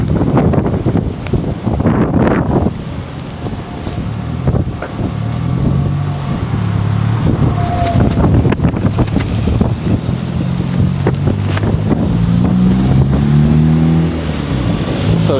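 A breezy summer day outdoors in downtown South River, New Jersey, with loud, continuous wind buffeting the microphone over low traffic rumble and a passing engine.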